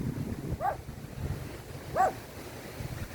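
Dogs tied up on their line outdoors let out two short, high whimpers about a second apart against a windy, rumbling background.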